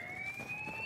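A siren wails in the Battlefield 4 video game, a steady rising electronic tone heard fairly faintly and alone over a soft background hum.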